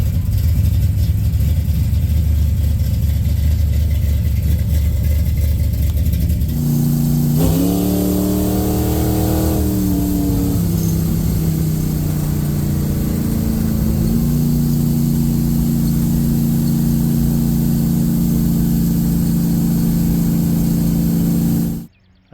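A 1966 Chevy II Nova V8 rumbles at a loud, steady idle, then revs up and settles back at about seven seconds. It holds a slightly higher idle before easing down and cutting off at the very end.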